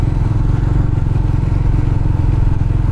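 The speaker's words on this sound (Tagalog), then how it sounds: "Lakas ng Honda Click talaga, may angkas, may box" A Honda Click scooter carrying a passenger and a top box climbs uphill toward Tagaytay, its engine droning steadily and loud throughout, close up and without a break.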